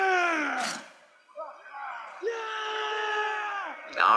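Army soldiers cheering in the medieval battle game Mount & Blade ROTK, a chorus of shouted battle cries that sounds in bursts, close and fairly loud, with short gaps between them.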